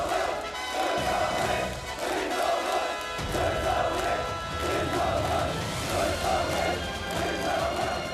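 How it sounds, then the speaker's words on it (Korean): A large crowd of participants at a military anniversary gathering at a defence ministry roars in loud, sustained unison, the chanting swelling and pulsing in waves with a heavy low rumble underneath. "전체 참가자들이 터쳐올리는 김정은 결사옹의 우렁찬 함성이 2월의 하늘가로 끝없이 메아리"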